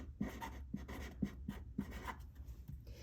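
Pencil scratching across paper in a plant patterns lesson, short strokes recurring roughly every half second, close and fairly quiet, with no talk over it.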